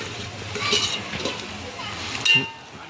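Onions sizzle and crackle in hot oil while a utensil stirs and scrapes the pan, with a few clinks.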